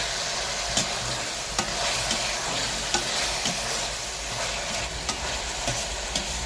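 Three lengthwise-sliced onions fry in oil with tomatoes for a bitter gourd dish, a steady close sizzle broken by regular scraping stirs of a spoon in the pan, with no voices.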